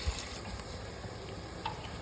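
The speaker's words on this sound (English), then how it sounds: "And now add 1 glass of water." A glass of water pours into an egg curry cooking in a pot, giving a steady, soft splashing trickle that runs continuously for a couple of seconds with a faint drip near the end.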